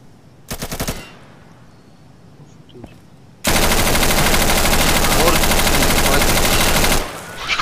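Machine gun fire in Insurgency: a short burst, a quiet stretch with a faint click, then a long, loud, sustained automatic burst lasting several seconds before it cuts off.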